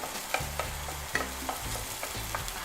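Ginger, turmeric, onions and garlic sizzle in a pan as a utensil scrapes and stirs in quick, repeated strokes, close and fairly quiet.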